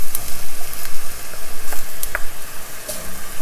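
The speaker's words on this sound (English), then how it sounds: "Nicely roast the paste until you get a nice aroma of ginger and garlic." Ginger garlic paste sizzles steadily while roasting in a pan as part of a shrimp curry, a continuous close frying hiss with a few brief stirring clinks and no talk.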